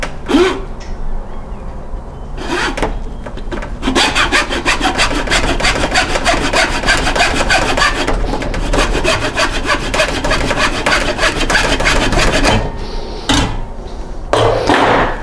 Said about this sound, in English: now we got our plastic PVC molding, and I'm going to cut a little bit of this off here